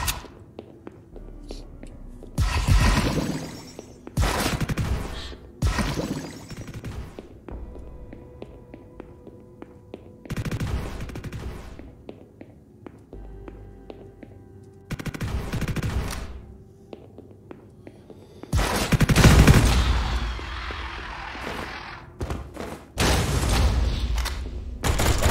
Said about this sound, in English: Something shooting a lot over there.